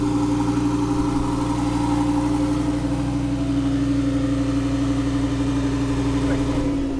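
A Lamborghini Huracán Performante idles nearby with a steady, low engine hum, a continuous drone outside a Prestige Imports showroom while people talk faintly in the background.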